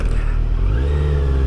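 Kawasaki Z900 motorcycle engine revving as the throttle is blipped, a loud, close rumble whose pitch climbs and settles into a higher, steadier drone partway through.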